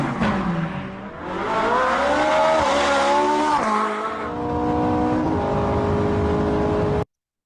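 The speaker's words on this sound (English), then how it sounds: "I want them to experience the sound of the vehicle" A car drives and turns around, its engine revving and shifting pitch as it accelerates, with tire squeal. It runs loud and close throughout before cutting off abruptly.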